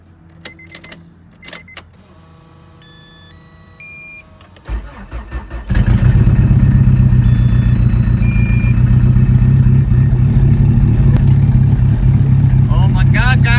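A boosted Honda Integra with a sleeved GSR B18 engine cranks in short bursts, then catches and settles into a loud, steady running drone. Voices talk and exclaim over it, and a few whirring chirps come before the start.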